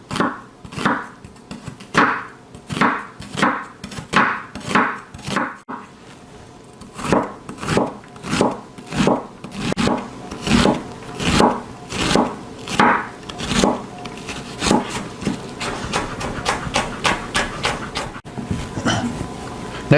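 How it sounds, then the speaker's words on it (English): A knife chops a yellow onion on a cutting board for butternut squash soup, giving steady, close thuds in quick runs with a short pause midway, then faster, denser cutting; no one speaks. "we're going to cut up some yellow onion for our soup"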